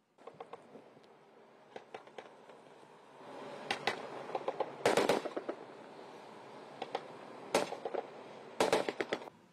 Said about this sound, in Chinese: 两栖突击登陆车先投射烟雾弹